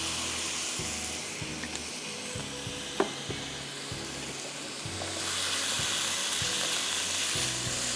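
Chicken mince sizzling in a pan as light soy sauce is added, a steady hiss that swells louder partway through, with a few spoon taps and scrapes close by.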